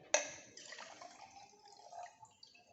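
Water poured into a container during a physics practical, beginning with a sharp splash and settling into a steady trickling stream that fades and tails off over a few seconds, with no talking.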